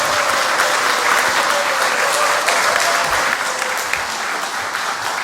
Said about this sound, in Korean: 우리 한번 힘차게 우리 목사님 나오실 때 격려의 박수를